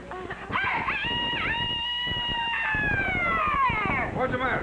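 A man imitates a rooster crowing, a long cock-a-doodle-doo rising and falling over about four seconds, loud and close, in a 1978 television program scene.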